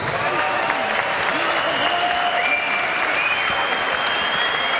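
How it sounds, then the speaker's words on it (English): Boxing crowd at the Willie Casey vs. Andreas Evensen fight applauding both fighters after twelve rounds, a loud, continuous roar of clapping and cheering with voices mixed in throughout. "how about a round of applause for both fighters?"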